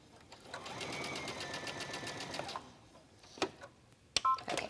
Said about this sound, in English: Now I'm only going to stitch this side down just a little bit.